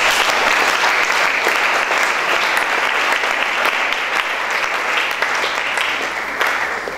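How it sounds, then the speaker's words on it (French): A church congregation claps steadily and loudly throughout, a dense, even wash of applause that fills the space. "Est-ce qu'on peut acclamer pour sa vie?"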